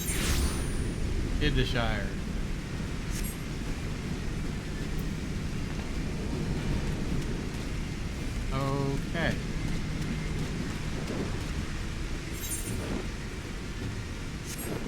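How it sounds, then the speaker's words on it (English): Heavy rain pours down outside as a steady, dense hiss that lasts throughout, with people talking over it now and then. "They're outside, and it's pouring down rain."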